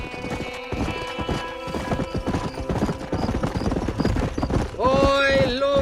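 Horse hooves clip-clop at a gallop in the Red Dead Redemption video game, a steady close rhythm with a horse whinnying near the end, while voices talk over the ride.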